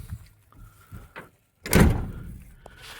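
A few light clunks and clicks, then one solid door of a 1972 Chevrolet C10 pickup truck thuds shut loudly, followed by a softer latch click.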